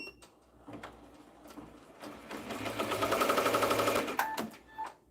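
An embroidery machine runs up to speed and stitches in a fast, steady mechanical rattle lasting a couple of seconds, with quieter handling clicks before and after.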